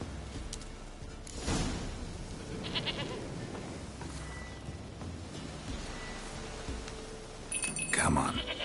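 A goat bleats repeatedly in The Witcher 3, wavering nasal calls rising over ambient game background and a voice speaking nearby.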